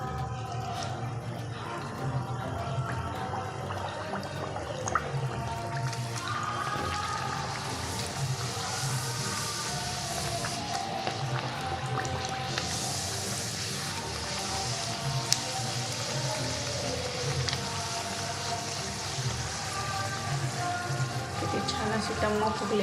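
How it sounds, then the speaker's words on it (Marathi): Masala puris fry one by one in hot oil with a continuous crackling sizzle, while someone talks over the cooking. "हे असं आपलं तेल तापलेलं आहे, आपण एक एक करून त्याच्यामध्ये या अशा पुऱ्या सोडून घ्यायच्या आहे।"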